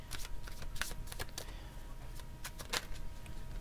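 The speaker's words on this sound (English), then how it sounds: "Ooh, all these cards are falling." Tarot cards riffle and slap during shuffling, with several crisp bursts of card clatter as some spill and fall, close and fairly quiet, with no voices.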